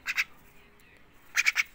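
A pet bird kept indoors gives two short bursts of harsh, raspy squawks, a pair near the start and a quicker triple about a second later, fairly close and loud against a quiet room.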